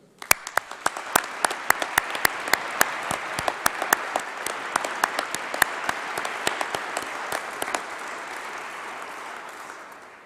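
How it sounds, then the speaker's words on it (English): A large audience applauds in a great hall at a university winter graduation ceremony, dense continuous clapping with crisp nearby claps standing out, holding steady and slowly thinning toward the end. "Let's give them all a round of applause."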